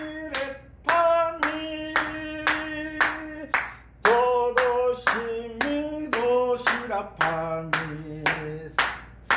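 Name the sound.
hands clapping to keep the beat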